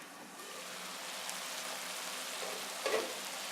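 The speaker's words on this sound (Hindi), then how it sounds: "अब इसको मीडियम आंच पे 5 मिनट के लिए कवर करेंगे ताकि चिकन अच्छी तरह से पक जाए।" Chicken cooks covered in a pan on medium heat, giving a soft, even sizzling hiss that holds steady, with a faint clink near the end.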